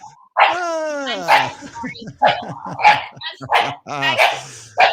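A dog barks repeatedly and loudly at a hockey game intermission, sharp yips and whimpering bow-wows in an irregular burst pattern, close and prominent.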